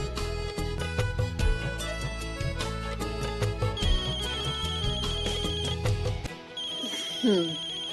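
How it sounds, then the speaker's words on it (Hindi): A mobile phone ringtone plays a repeating electronic melody at steady volume for several seconds, then stops and a voice speaks briefly. "फोन बज गया गलत टाइम पे।"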